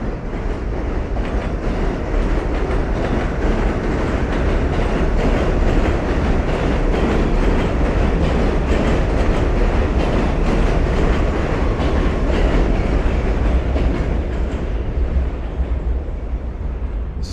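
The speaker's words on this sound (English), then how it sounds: "Got a lot of trains passing over." A train rumbles close by on elevated tracks overhead in Brooklyn, New York, with a heavy, continuous roar and rhythmic clatter of wheels, loud and sustained throughout before easing slightly at the end.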